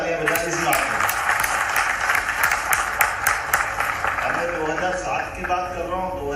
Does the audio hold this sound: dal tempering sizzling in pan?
no